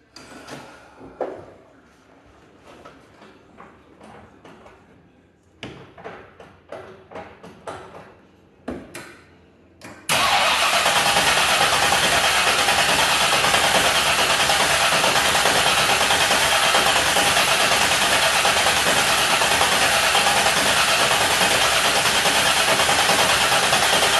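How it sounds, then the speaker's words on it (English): Clunks and handling noises come first, then an engine cranks and catches at about ten seconds and settles into a loud, steady idle that runs close to the end, with no talking. "I'm going to crank this thing over, build up some fuel pressure and some oil pressure before I start it"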